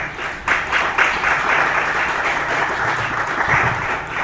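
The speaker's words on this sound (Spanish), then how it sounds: "Vamos a brindarle un fuerte aplauso a nuestro Dios." A church congregation applauds together in a loud, dense, sustained burst of clapping that fills the room from start to finish, with a few voices rising inside it.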